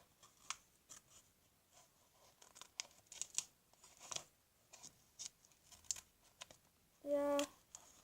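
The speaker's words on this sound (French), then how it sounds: "Et je vais découper mon dessin." Scissors snip through a paper drawing in short, scattered cuts close by, with a crinkle of paper and a louder rasping cut near the end; no talking.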